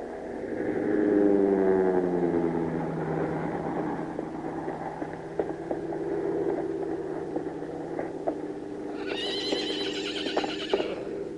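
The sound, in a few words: herd of horses galloping and neighing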